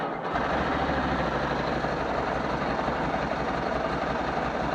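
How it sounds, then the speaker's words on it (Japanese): A Ducati motorcycle engine idling during a vehicle inspection, starting abruptly and then holding a steady low rumbling throb, close and continuous. "はい、エンジンかけてください。"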